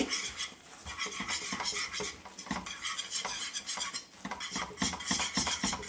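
Mysore pak mixture being stirred in a pan in hot oil, with continuous rapid scraping and clinking of the utensil against the metal, close and busy throughout.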